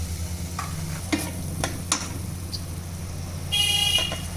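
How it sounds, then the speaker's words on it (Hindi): Tomato paste sautés in a pan for a potato and tomato curry, giving a soft steady sizzle with a few brief stirring scrapes and taps, and a faint distant car horn near the end. "टमाटर के पेस्ट डाल चुके हैं। अब इसको हम थोड़ा भूनेंगे।"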